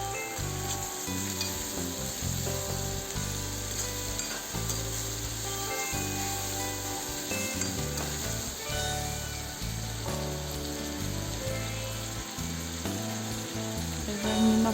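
Spices and turmeric for a drumstick (sozina) curry fry in a hot pan: a steady, close sizzle and crackle that runs unbroken throughout, with no voices.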